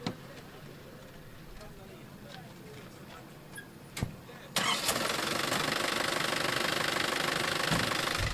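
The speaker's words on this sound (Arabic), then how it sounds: "حل الموتور" A DMX car's engine cranks and catches about halfway through, then runs with a steady, loud, close-up idle until the end, after a quieter stretch with faint background noise.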